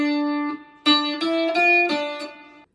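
Guitar playing the third part of a riff, a short run of plucked single notes at changing pitches with picking attacks, moderately quiet and alone.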